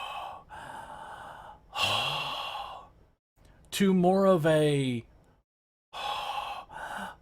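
A voice imitating heavy, changed breathing during a tabletop role-playing game, with several drawn-out sighing breaths and a sharp gasp-like burst in the middle, close to the mic and mixed with brief speech.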